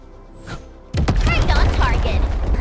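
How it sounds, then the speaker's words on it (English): An explosion in a video game lands with a sudden loud boom. A dense, crackling rumble of debris follows and stays loud to the end. "I give that explosion a 10 out of 10."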